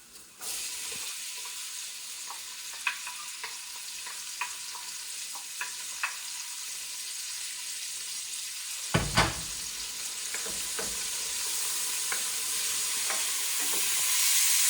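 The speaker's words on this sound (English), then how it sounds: "So now we're going to add our celery, carrots, and onions." Celery, carrots and onions sizzling in rendered pancetta fat for a Bolognese base, a steady close frying hiss with occasional stirring clicks and scrapes, alone without talk.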